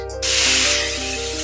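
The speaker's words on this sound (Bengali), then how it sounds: "জিরাটা ভাজা হয়ে গেল এবারে দিয়ে দিচ্ছি মশলার পেস্ট" Spice paste drops into hot oil with fried cumin seeds and erupts into a sudden loud hiss. The sizzle holds strong, then eases slightly over a soft musical background.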